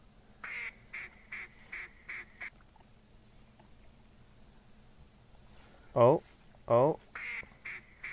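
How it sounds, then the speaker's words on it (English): Ducks quack during a duck hunt outdoors, with short repeated calls in a steady series, then a couple of louder, closer honking quacks; someone briefly speaks. "I think I see a bunch of ducks coming."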